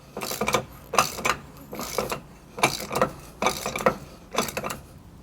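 Bolt being threaded onto a Bravo 3 boat propeller, a run of close, scratchy metal turning strokes repeating in five or six rhythmic bursts with no voices.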